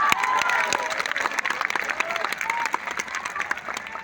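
An audience claps together at an anniversary gathering in Khurja, Uttar Pradesh, producing a steady, dense wash of applause with some crowd noise throughout.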